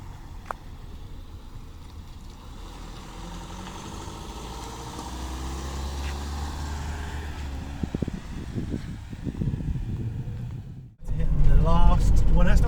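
A camper van fitted with a Halfords cycle carrier drives along, its steady engine and road rumble rising gradually, with a louder, rougher surge near the end as voices talk over it.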